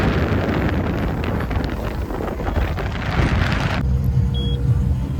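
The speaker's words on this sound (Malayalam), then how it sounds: "ഞങ്ങൾ ബേപ്പൂരിലെ പുതിയ അനുഭവം സ്പീഡ് ബോട്ട്." Speedboat ride at Beypore, with a steady engine roar and heavy wind buffeting the microphone throughout, loud and continuous, easing slightly near the end.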